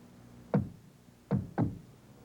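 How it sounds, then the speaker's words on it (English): A car door shuts three times, each a short, solid thump, the first alone and the last two close together, in a quiet setting. "The sound of a car door shutting tells you something about the car."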